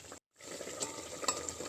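Smoked meat frying and being stirred in a pan for a Tripuri bamboo shoot dish, with a steady sizzle, scraping stirs and clinks, and a brief silent gap near the start.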